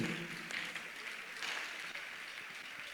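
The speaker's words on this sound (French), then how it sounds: "Acclame pour Jésus" A church congregation applauds for Jesus during a sermon, steady, dense clapping filling the room for several seconds without a break.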